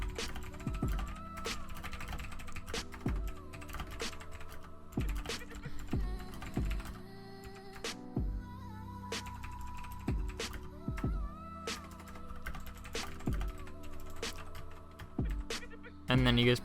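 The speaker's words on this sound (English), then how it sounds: "So I'm gonna hit enter and type some more stuff." Typing on a computer keyboard, close and quiet, with irregular bursts of clicking keystrokes and occasional heavier key taps, and no voices.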